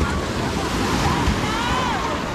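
Steady ocean surf washes in at a beach in Morong, Bataan, with a continuous broadband roar, wind noise brushing the microphone throughout.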